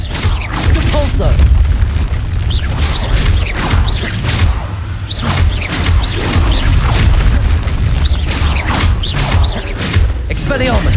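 Spell casting in the Hogwarts Legacy video game, including Confringo, Expelliarmus and Depulso, gives a loud, continuous run of booming blasts and whooshing bursts, with repeated impacts layered over dense game effects and no talk.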